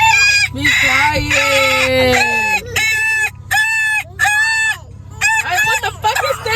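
Rooster crowing from an alarm clock, several loud repeated cock-a-doodle-doo calls in close succession with short gaps, while people talk over it.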